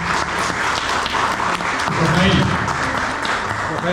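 An audience at a talk by a Catholic priest gives a round of applause, steady dense clapping throughout with some voices mixed in.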